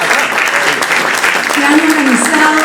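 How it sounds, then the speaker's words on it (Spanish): An audience at a literature-house colloquium bursts into steady, loud applause, dense clapping filling the room while a voice speaks through it. "a Sandro Chiri y a Roger Santibáñez, por favor, aplausos,"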